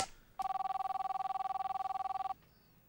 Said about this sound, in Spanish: Voy a hacer una llamada al pasado, te voy a salvar la vida.